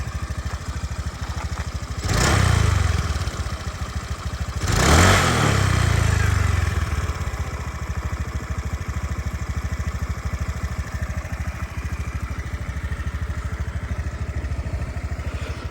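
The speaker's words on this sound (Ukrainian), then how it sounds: "двигунчик у нас працює просто як часи" Fuel-injected 2016 Honda Dio 110 JF58 scooter engine idling quietly and evenly, with two short throttle blips early on before it settles back to a steady low hum.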